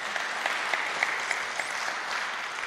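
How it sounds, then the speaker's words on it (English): Audience applause fills a church service, steady clapping with a few sharper claps standing out, moderately distant and continuous without speech. "Can we give her a round of applause"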